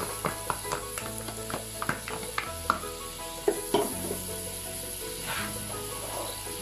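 Garlic sizzles steadily in tuna oil in a pan, a constant hissing fry close by, broken by a series of light utensil taps and scrapes against the pan.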